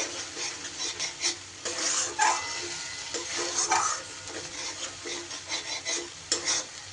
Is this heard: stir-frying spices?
yes